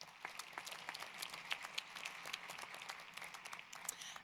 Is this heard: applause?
yes